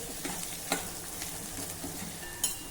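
Onion, ginger, garlic and green chili sautéing in a pan for Varhadi-style tempered dal, a soft steady sizzle with a few sharper scrapes of stirring.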